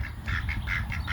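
Ducks quack in a quick run of about six short, nasal calls, moderately close, with no talking over them.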